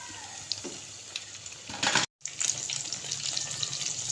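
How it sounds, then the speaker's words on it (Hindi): Brinjal pakoras frying in hot oil, a steady bright crackling sizzle that runs throughout, briefly cut off once by a short gap, close and fairly loud with no talking. "ये पकौड़े निकालने के बाद बाकी के मैंने डाल दिए हैं। ऐसे करके हम ये भी फ्राई कर लेंगे।"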